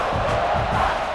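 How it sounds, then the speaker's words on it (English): Stadium crowd in NCAA Football 26 roaring in a steady, loud wash of cheering noise with no break. "this crowd is fired up. Listen to this noise here."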